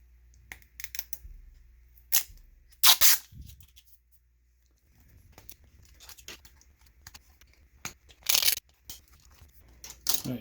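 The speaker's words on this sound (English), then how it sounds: "Let's see if we can get this paper off." Protective paper is peeled off a 3D printed RC4WD Blazer camper cap in a few sharp ripping and crackling bursts between quieter handling rustles and pauses, close up with no talk.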